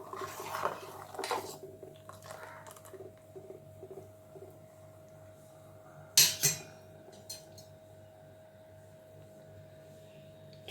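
Ragi porridge cooking in a pot, stirred with a utensil that gives soft repeated scrapes and taps, then two sharp clinks against the pot, over a faint steady hum.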